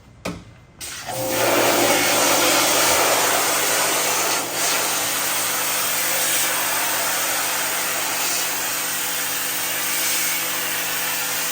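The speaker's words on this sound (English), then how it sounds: "Bring it over to the sink and hit it with a pressure washer." Pressure washer spraying a screen-printing screen at a sink after a dip-tank soak, a loud, steady, close roaring hiss that starts abruptly and holds almost unchanged throughout.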